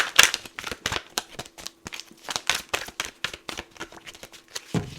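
A deck of tarot cards being shuffled by hand, quick irregular riffling snaps and slaps in close succession, near and fairly quiet, with no voice.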